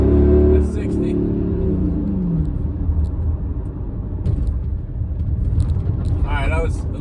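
A six-speed Mercedes AMG, C55 or ML55, roars hard during a 0-to-60 run, then the engine note falls away into a low road rumble while people talk over it.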